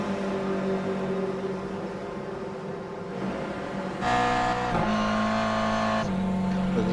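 Race cars circling a track during a racing round, steady engine drone with tonal whine that shifts as cars pass, growing louder midway, with commentary talk over it.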